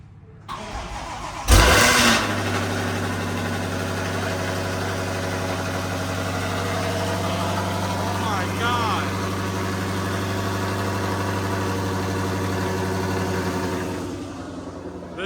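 A 1200-horsepower Ford Mustang Shelby GT500 engine cranks and catches, then settles into a loud, deep, rumbling idle that holds steady for several seconds before quieting at the end.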